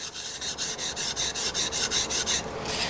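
A hand plane blade is sharpened with rhythmic back-and-forth rubbing strokes on a budget setup, about a dozen evenly spaced scraping passes, close and fairly loud with no talking.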